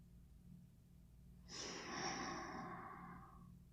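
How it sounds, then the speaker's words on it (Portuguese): One slow, soft exhalation is pushed out through the mouth during a relaxation breathing exercise, rising gently and trailing off, heard close against a quiet background. "Solte o ar pela boca."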